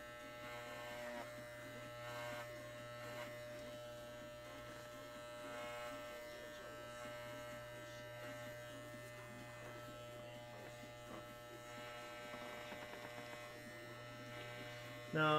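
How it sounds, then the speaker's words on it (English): An electric shaver trims the fur of a bunny fursuit, a steady close motor buzz and hum that holds evenly throughout, with no speech. "I don't want to shave it all down."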